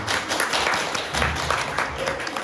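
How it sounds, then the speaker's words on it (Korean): An audience at an education technology seminar applauds, a steady, moderately loud patter of clapping that fills the short stretch from start to finish. "박수 부탁드립니다"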